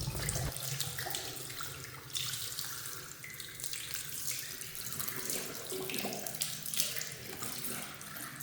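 A hospital washroom tap in Kuwait runs steadily, its water gushing into the basin in a continuous splashing stream, fairly close and alone with no talk.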